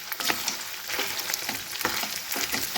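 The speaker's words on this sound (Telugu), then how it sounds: "ఇవి మనకి గోల్డెన్ బ్రౌన్ కలర్ వచ్చేదాకా ఫ్రై చేసుకోవాలి." Soya chunks (meal maker) frying in hot oil, a soft, steady crackling sizzle broken by frequent light scraping strokes as they are stirred, heard alone.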